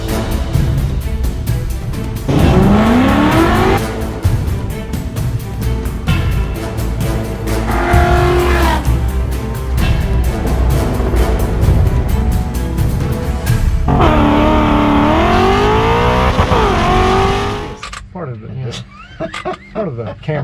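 A 1971 Ford F100 pickup with a three-speed column shift drives along, its engine revving up and dropping back in repeated surges as gears change, loud and close, ending in quieter rattling.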